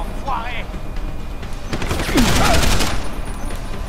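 Bursts of gunfire in the video game Deus Ex: Human Revolution crackle out in a loud rapid cluster through the middle, with a voice talking faintly at the start.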